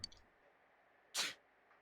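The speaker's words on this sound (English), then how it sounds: "You sneezed." A single sharp sneeze bursts out about midway through an otherwise quiet stretch, brief and close, with a couple of faint clicks at the very start.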